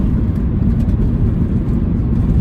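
Close, loud engine rumble from a 2005 Mini Cooper Park Lane revving, holding a steady low drone throughout with no voices.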